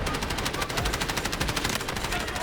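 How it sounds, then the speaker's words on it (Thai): Rapid sustained automatic fire from an end-game rifle in the shooter Delta Force, a dense, even rattle of shots with no pause, loud and close. "ดูผมยิงนะทุกคนนะ"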